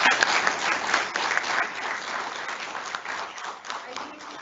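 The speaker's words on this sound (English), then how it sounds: "A big round of applause." Sustained applause from an audience at a school annual day, dense clapping that starts strong and slowly tapers over several seconds, with faint voices beneath.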